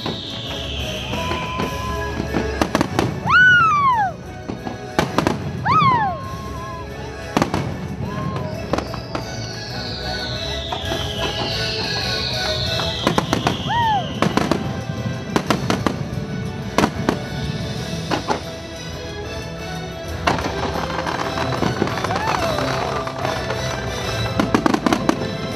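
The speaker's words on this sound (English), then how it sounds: "Every time one of the fireworks would explode" Fireworks exploding over Epcot, a rapid run of sharp bangs, crackles and whistling rising shells that continues for the whole stretch, loud and close with crowd noise beneath.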